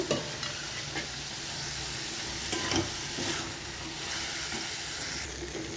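Fried soybean chunks and potato are stirred through a spiced masala in a pan, giving a dense, constant sizzle and hiss with occasional soft scraping strokes of the spoon.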